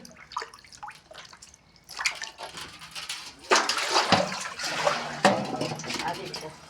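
Spinach greens are washed in water, giving close splashing, swishing and dripping that grows louder and busier midway, with a person talking now and then over it.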